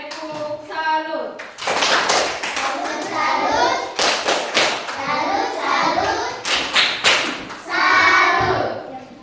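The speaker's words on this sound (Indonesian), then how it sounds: "tepuk salut buat kelompok 2 dan kelompok 1" A class of children claps a rhythmic "tepuk salut" routine in a school lesson, with sharp grouped hand claps in bursts separated by short pauses and children's voices chanting along.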